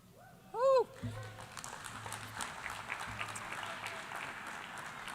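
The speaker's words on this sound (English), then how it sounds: "Well, cheer again like you did at the beginning of this session." A loud whoop rings out, then an audience at a United Nations World Football Day commemoration claps and cheers in a dense, continuous patter that lingers in the background.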